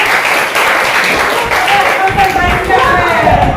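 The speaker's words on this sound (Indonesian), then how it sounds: "oke, tepuk tangan buat mereka berdua" Classroom applause for two students, a dense, steady patter of many hands clapping throughout, fairly loud, with a few children's voices mixed in near the end.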